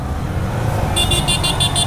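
A vehicle approaches along a road on a ride from Malekhu to Kathmandu: a steady engine and road rumble, then a series of about six evenly spaced horn toots in the second half.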